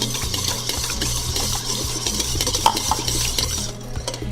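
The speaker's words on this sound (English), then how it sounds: "Keep on whisking." Wet cupcake batter with canola oil whisked in a bowl, a fast, steady rhythmic clatter of the whisk against the sides, loud and close, without any voice.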